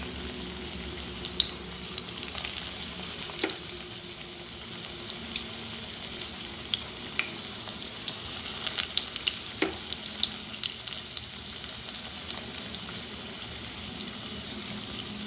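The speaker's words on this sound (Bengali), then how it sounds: "তেলটা ভালো করে গরম করে গ্যাসের ফ্লেমটা লো করে বড়াগুলোকে ভাজতে হবে।" Drumstick flower fritters fry in hot oil over a low flame, a steady close sizzle with crackling pops running unbroken throughout, no voices.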